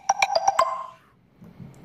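Livestream notification alerts, a quick run of five bright chiming pings in rapid succession, then fading to near silence.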